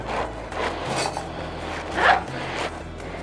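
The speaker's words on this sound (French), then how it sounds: "Nous allons couper notre chou rouge." A knife cuts through a red cabbage, giving a series of crisp crunching, scraping strokes up close, loudest in a burst near the middle.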